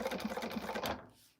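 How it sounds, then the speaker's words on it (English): Sewing machine stitching a quilted cactus, a quick rapid run of needle clatter that stops abruptly, leaving near silence. "So I'm going to get this sewn."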